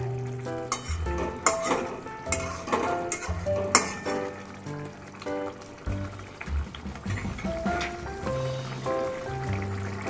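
Katla kalia fish curry stirred in a pan: metal utensil clinks and scrapes over a soft simmering sizzle, accompanied throughout by background music with no talking.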